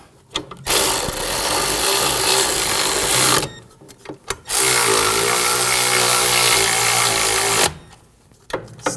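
A power tool runs in two long whirring bursts, loud and close, separated by a short pause, while bolts on a Volvo S60 parking brake assembly are driven snug.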